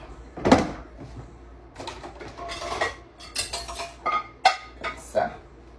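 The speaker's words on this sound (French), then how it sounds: "je prends la vaisselle et je les mets dans le bac." Dishes and cutlery clatter into a sink basin in a series of clinks and knocks, a sharp clatter first, then scattered bumps and rattles, close and fairly loud.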